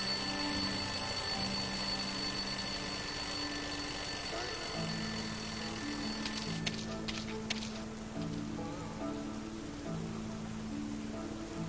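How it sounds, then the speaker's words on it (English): An alarm clock rings from inside a rubbish bin in the video game Lost Horizon, a steady continuous ringing over a game music backdrop, moderately loud throughout. "Let's see what happens when it goes off."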